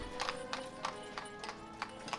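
Horse hooves clip-clopping in the village-building game Ostriv, a steady rhythm of about six or seven evenly spaced hoof taps over a faint ambient hum, with no talking.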